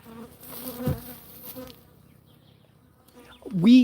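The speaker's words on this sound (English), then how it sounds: "I've cut down a lot of the guard bees here with the spray adhesive" Guard bees buzzing at a beehive, some already cut down with spray adhesive, a close, wavering insect drone that swells, fades to near quiet, then rises sharply at the end.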